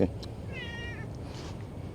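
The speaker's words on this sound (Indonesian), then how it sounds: "Ada kucing tuh, tapi bukan yang waktu itu." A cat at a beach campsite gives a single short, wavering meow, fairly faint and close, over a low murmur of background noise.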